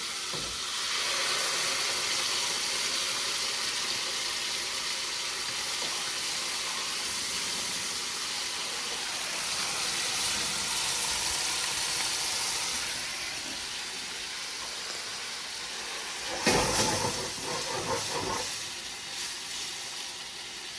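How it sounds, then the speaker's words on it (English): A wine reduction for roast chicken sizzles and hisses steadily in a pan, a broad constant fizz that swells briefly louder near the end. "Sizzle, that means the wine is all cooked."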